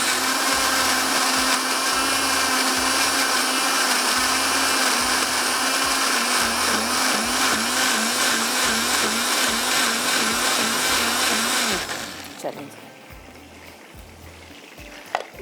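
A kitchen blender grinding onions into a paste for kofta curry gravy, running loud and steady for about twelve seconds before the motor cuts off and winds down, leaving a quieter room with a final clack.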